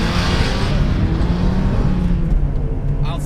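A stock NA Mazda Miata accelerates on a track at the FIRM, its engine giving a loud, close, steady rumbling drone heard from inside the car, with a faint voice in the background.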